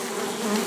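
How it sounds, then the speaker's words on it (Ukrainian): Steady, close buzzing of angry bees with a wavering hum, continuous and loud throughout, like agitated bees swarming near the listener. "Бджола зла."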